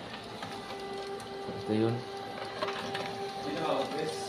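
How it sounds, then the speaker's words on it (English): A Canon printer runs a sample page, giving a faint mechanical whir and a short burst of feeding and clacking, with a person speaking nearby. "So let's print a sample page."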